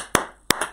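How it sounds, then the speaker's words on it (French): Two sharp, close hand claps spaced apart during a church service, each followed by a brief ringing decay in a reverberant room; no crowd applause. "Applaudis encore pour Pharaon."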